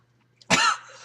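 A single short, close cough bursts out of near silence, slightly throaty, with a faint steady hum underneath.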